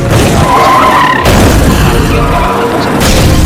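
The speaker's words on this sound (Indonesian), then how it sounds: "Alhasil mobilnya menabrak mobil dari arah yang berlawanan" A car skids and slams into an oncoming car in a 2011 Korean romance film, with loud tire screeches, an abrupt impact boom and crunching debris in a dense, chaotic burst.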